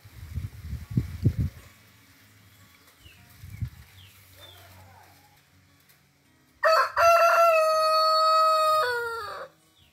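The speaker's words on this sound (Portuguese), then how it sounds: "Esse galo aí é o, é o reprodutor. dez meses. Um galo muito ativo." A ten-month-old Light Brahma breeding rooster crows loudly and close by in one long, wavering call near the end, after some low rustling and scattered thumps.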